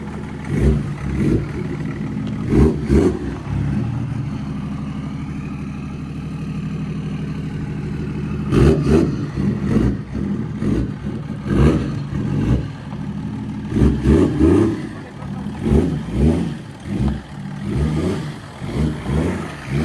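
A BMW 330cd with a stage 2 tuned M57 diesel engine runs loud and close, rumbling low and pulsing through repeated throttle surges over about twenty seconds.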